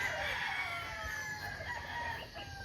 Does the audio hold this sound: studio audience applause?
no